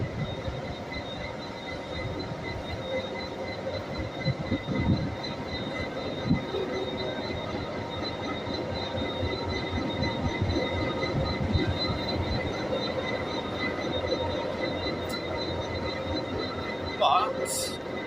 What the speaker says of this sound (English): I'm seeing my most favourite locomotive of all time, the 201 class